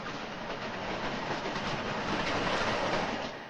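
A train crossing a bridge, a dense, loud roar of wheels and rattling carriages with faint clickety-clack, sustained and unbroken before easing off at the very end.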